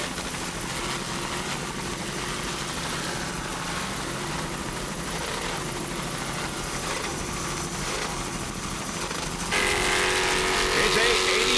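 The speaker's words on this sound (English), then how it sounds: "a 30-foot superboat built on Long Island. Powered by one 650 horsepower MRD inboard with Merc Cruiser drive" A 30-foot Long Island-built superboat with a single 650 horsepower MRD inboard and MerCruiser drive races at the Key West world championships, its engine giving a loud, steady roar throughout that grows brighter and louder near the end.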